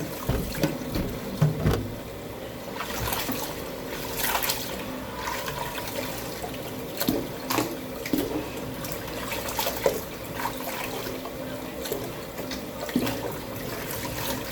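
Goat meat being washed by hand in a bowl of water, with steady splashing and sloshing, irregular louder swirls and drips close by, no talking.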